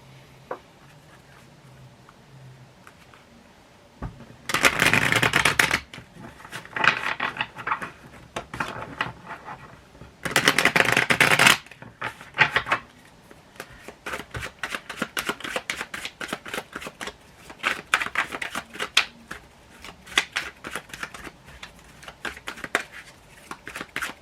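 Tarot cards being shuffled in two loud riffling bursts, followed by a long stretch of softer, rapid papery flicks and taps as the deck is handled up close.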